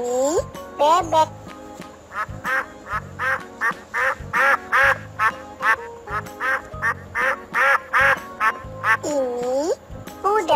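A duck quacks in a rapid, rhythmic series of loud, close nasal calls over light background music, for a children's animal-sounds lesson.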